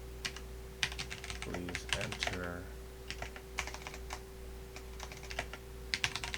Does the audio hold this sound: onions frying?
no